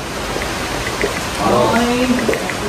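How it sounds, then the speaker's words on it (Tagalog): Heavy rain falls in a constant dense hiss that swells slightly midway, while people talk faintly indoors beneath it. "ang lakas na ng ulan"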